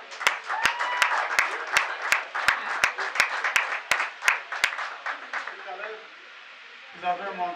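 Audience at a certificate-award ceremony for a capacity-building workshop applauds steadily, dense clapping with a few sharp claps standing out, fading near the end into quieter murmuring.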